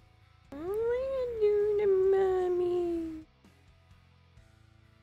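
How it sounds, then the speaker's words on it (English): A displeased cat lets out one long, loud, drawn-out meow that rises and then slowly falls, standing alone against quiet room background. "Cat's not happy I'm not touching him."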